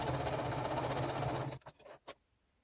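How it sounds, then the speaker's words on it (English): A sewing machine stitches a quilt sandwich in a fast, steady whir for about a second and a half, then stops with a few soft clicks and taps. "now it's time for the fun part, sewing"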